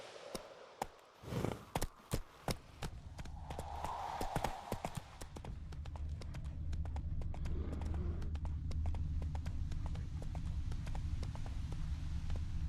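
Roach, a horse in the video game The Witcher 3, gallops in a rapid rhythmic clip-clop of hooves that starts with distinct hoof strikes and settles into a steady run over a continuous rumble of motion.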